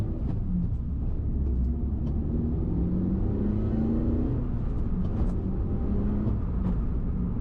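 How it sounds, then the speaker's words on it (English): An older car's raspy exhaust drones steadily from inside or close by, a low rumble with a brief rising rev in the middle and no voices over it. "Like, just a little raspy exhaust on this."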